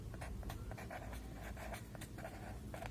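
Pen or marker scratching out a math solution in quick, uneven strokes with short pauses, steady and close over a low background hum, no voices.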